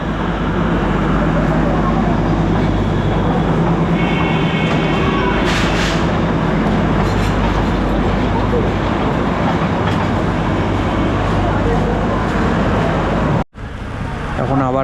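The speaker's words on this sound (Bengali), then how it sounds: "এই টয় ট্রেন ছেড়ে দিল।" The Darjeeling toy train pulling out of the station, a loud, continuous rumble and rattle of rail cars close by with mixed road traffic noise and people talking throughout, cutting off abruptly near the end.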